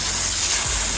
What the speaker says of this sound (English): I'm just using my hose with the nozzle, spray nozzle.